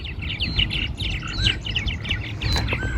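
Purple martins at bird houses beside a lake near a dam chatter in a busy, overlapping stream of chirps and gurgling warbles, close and lively, with a low rumble of water or wind beneath.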